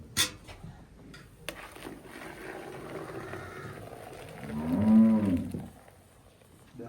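A single cow moos loudly and nearby toward the end, a drawn-out low call rising and falling on a Cholistani cross dairy farm during milking, with quiet background noise before it.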